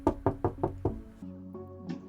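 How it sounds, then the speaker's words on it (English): A door knocked in a video game scene, five quick evenly spaced raps followed by short chiming musical tones, loud and close, with no voices. "And Nosh, you hear a knock on the door."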